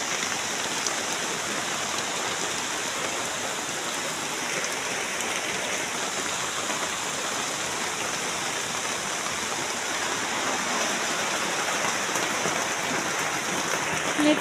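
A swollen river in flood after a night of heavy rain rushes in a steady, loud roar of churning water that fills the whole stretch without pause or break.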